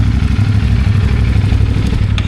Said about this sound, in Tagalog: So pinaandar ko na rin yung mga makina ng mga motor.